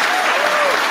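Audience applause after a political speech, a dense steady wash of many hands clapping at full, even loudness for the whole second, with no pauses and some crowd murmur underneath.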